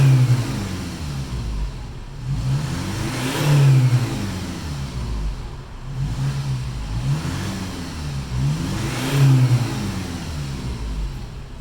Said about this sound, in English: Just do a little bit of a rev on the engine.